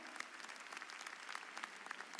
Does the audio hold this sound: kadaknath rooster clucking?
no